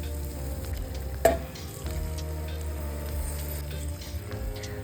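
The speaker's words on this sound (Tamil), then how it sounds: "இப்போ ஒரு தக்காளி பொடியாக நறுக்குனதை போட்டு தக்காளி சாஃப்ட் ஆகிற வரை வதக்கி எடுத்துக்கலாம்." Chopped tomato sizzles steadily in a hot pan for Chettinad mutton curry, a close, continuous frying hiss broken by one sharp clink of a utensil.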